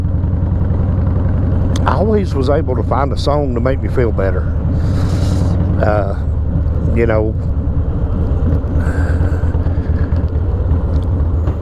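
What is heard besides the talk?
dirt track race car driving past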